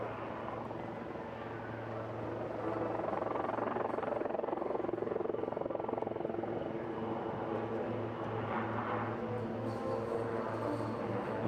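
Display helicopters at the Bournemouth Air Festival fly one rotor span apart into a climbing carousel, a steady distant rotor thrum and turbine whine drawn out and faint.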